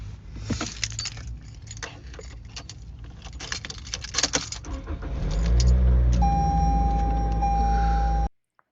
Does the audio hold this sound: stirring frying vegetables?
no